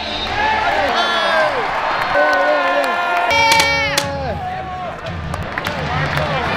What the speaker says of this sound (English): This crowd is just crazy.